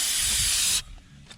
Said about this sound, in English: I'm gonna spray it down with some lube